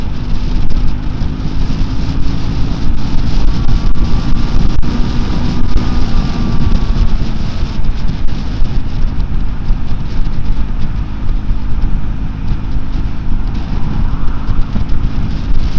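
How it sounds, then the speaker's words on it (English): Riding a 2024 Triumph Scrambler 400X, a loose mirror or handguard rattles under heavy, constant wind roar and engine drone, with a faint rising tonal whine partway through. "I think it's the vibration noise from that mirror."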